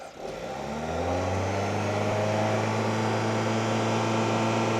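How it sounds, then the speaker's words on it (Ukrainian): Car engine revving up from idle and holding at raised revs during a battery and charging check, a steady close mechanical drone that rises at the start and then stays level. "Я газую, бачите"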